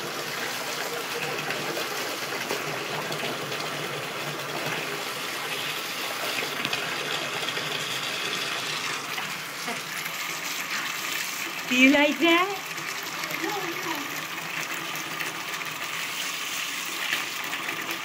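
Water gushing steadily from a household faucet, a continuous close hiss and splash running throughout, with a child and an adult talking briefly over it.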